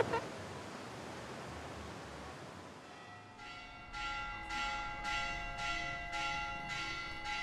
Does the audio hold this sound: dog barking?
no